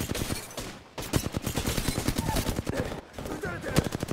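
Automatic gunfire crackles in rapid bursts during an enemy firefight in Apex Legends, loud and sustained with a brief pause around the middle before shooting resumes.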